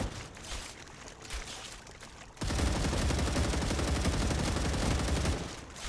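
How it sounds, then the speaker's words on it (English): Sustained rapid gunfire aimed at a crab creature in the video game StarRupture, a loud continuous rattling burst that begins abruptly after a quieter stretch of faint shots and ambience. "I guess we could try to shoot it and kill it"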